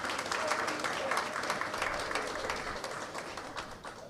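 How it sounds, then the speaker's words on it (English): An audience applauding at a commissioning ceremony for Justices of the Peace in Kingston, Jamaica: dense, steady clapping that tapers slightly toward the end, with voices mixed in. "Give yourselves a round of applause."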